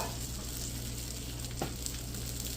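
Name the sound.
egg-soaked bread for French toast frying in oil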